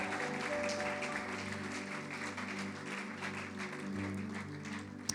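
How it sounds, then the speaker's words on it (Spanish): A church congregation applauding during an evening worship service, clapping steadily and fairly faintly over a sustained musical backdrop, continuous for several seconds without speech. "Dele palmas al Rey esta noche."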